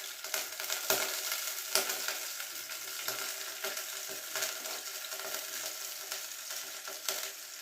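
Chopped garlic and spring onions frying in hot oil, a close, dense crackling sizzle punctuated by frequent light clicks and taps of a utensil against the pan throughout.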